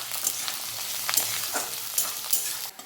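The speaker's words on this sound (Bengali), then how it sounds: "তো পেঁয়াজটা ভালো করে ভেজে নিয়েছি" Onion frying in a pan makes a close, continuous sizzle, with occasional stirring scrapes and crackles throughout.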